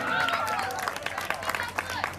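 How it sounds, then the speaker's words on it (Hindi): Wedding guests clap loudly at an Indian wedding celebration, a dense patter of many hands mixed with crowd chatter and voices throughout. "बच्चे लोग बजाओ जोरदार ताली।"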